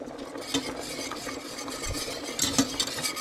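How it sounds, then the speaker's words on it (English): Whisk stirring turkey tetrazzini sauce in a pan over high heat, giving soft repeated scraping and light clinks against the metal, close and fairly quiet. "Stir with your whisk."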